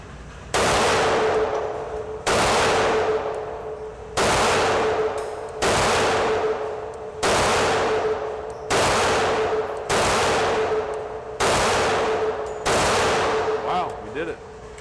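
A Vis 35 pistol in 9mm Parabellum fired at an indoor range, nine sharp loud shots spaced at an even, unhurried pace with a ringing tail after each, heard alone without talk.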